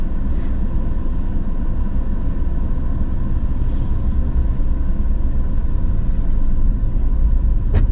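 Car accelerating through busy avenue traffic during a driving lesson in Higienópolis, a steady low engine and road rumble filling the cabin with no talk.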